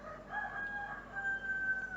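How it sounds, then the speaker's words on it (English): A rooster crows from a distance among chickens, one drawn-out crow that runs the whole stretch and stays faint, with no one talking. "I'm sorry if you hear chickens,"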